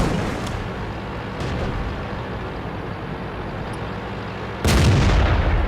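A fast-firing tank gun in World of Tanks, a light tank with a bulldog gun, booms out in loud low blasts with rumbling decay under a constant engine drone, one big shot landing near the end.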